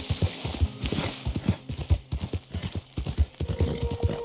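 Steady clip-clop of horse hooves in the Red Dead Redemption 2 video game, a brisk regular rhythm of close, clear hoofbeats running throughout, with a faint whinny and soft background ambience.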